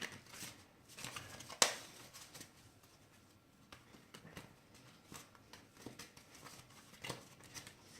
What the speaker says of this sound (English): I'm going to shuffle it a bit, just to make sure.